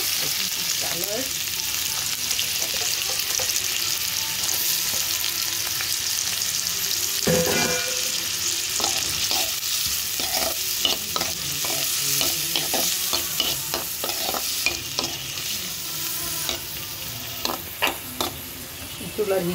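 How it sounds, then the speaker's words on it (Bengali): Chopped vegetables stir-frying over high heat for vegetable fried rice, a dense continuous sizzle with frequent spatula scrapes and tosses growing busier toward the end, close and with no voices. "আমি কেটে রাখার সবজিগুলো দিয়ে দিচ্ছি"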